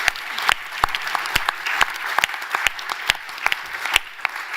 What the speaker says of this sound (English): A round of applause for my panelists.